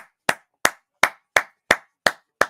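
One person claps seven times, sharp separate claps at an even, unhurried pace, close and clear with silence between them.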